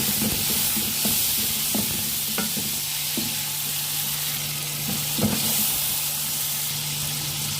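Tomatoes hit a hot pan of browned onions and ginger garlic paste, giving a steady close frying sizzle with scattered soft pops and stirring clicks, no voices.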